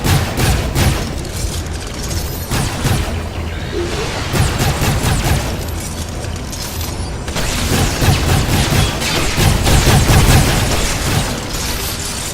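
Dense sci-fi gunfire in From Other Suns, a continuous stream of loud shots, pops and booms under a busy game soundscape with occasional voices.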